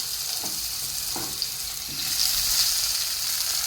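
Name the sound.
brinjal frying in leftover fish-frying oil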